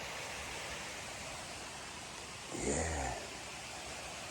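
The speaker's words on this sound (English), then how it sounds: "There's the water running down below" Steady broadband rush of a stream running below a campsite on the West Highland Way, a constant moderate wash heard from some distance, with a brief louder low rumble partway through and a single short spoken word.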